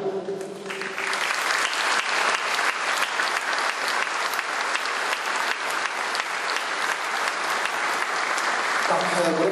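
A large audience at an award ceremony for the best mayors claps in loud, sustained applause lasting several seconds.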